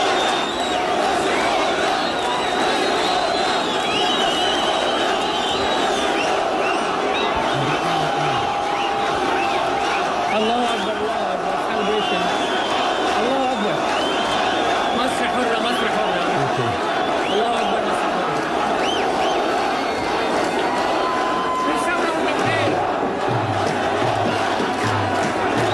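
A huge crowd of demonstrators in Cairo chants Masr Hurra, calling for freedom, a dense, continuous roar of many voices with rhythmic shouting and cheering, loud and sustained throughout with a broadcast voice briefly under it.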